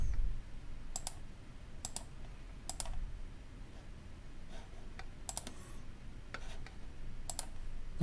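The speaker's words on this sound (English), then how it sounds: "click on the documentation folder" Mouse clicks on a web page, about eight sharp, isolated clicks spaced irregularly over a quiet room hum, close and crisp with no talking.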